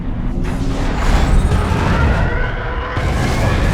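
A loud, rumbling spaceship explosion in the video game Star Wars: Squadrons, with whooshing sweeps rolling on for several seconds, a dense roar that doesn't let up.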